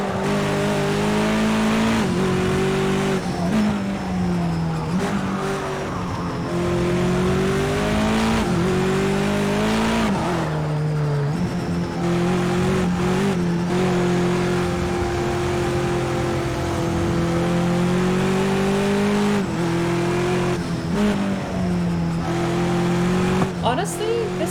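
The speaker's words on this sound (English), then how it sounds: "less growly engine than this." A loud racing car engine drones and revs continuously up close at Knockhill circuit, pitch rising and falling as it shifts through gears.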